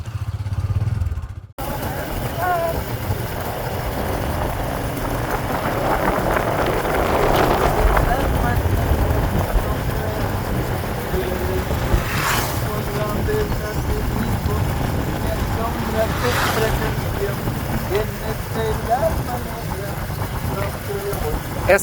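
A small motorcycle engine hums steadily throughout while riding, with wind rushing over the microphone and occasional passing sounds, heard alone without talk.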